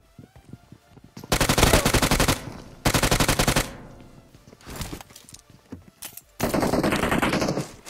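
SCAR rifle fire in a video game comes as several long, loud automatic bursts separated by short gaps, with a final sustained burst near the end.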